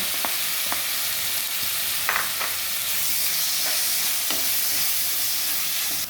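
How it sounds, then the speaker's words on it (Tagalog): Tomato frying in a pan, with a steady loud sizzle throughout and a few light clicks of stirring, no voices. "Ilagay natin ang ating tomato."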